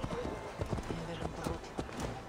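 A horse's hooves clip-clop in a steady trot in the video game Assassin's Creed Valhalla, set under a game soundscape and someone talking.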